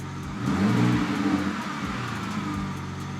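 A BMW E9X engine runs steadily right after a fuel pressure regulator repair, with a brief rise in revs early on before it settles to an even, close-up hum with no voices.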